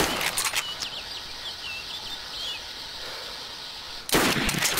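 In DayZ, a single loud rifle shot is fired at players on a rooftop, one sudden booming crack near the end after a quiet outdoor stretch with birds chirping in the background.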